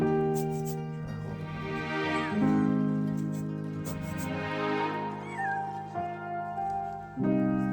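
Several high, thin cries from newborn Maine Coon kittens being firmly massaged, close and repeated, over a steady low hum with some handling noise.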